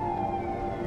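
An ambulance siren heard from inside a car in traffic, a steady wailing tone at moderate distance that stays constant through the brief moment.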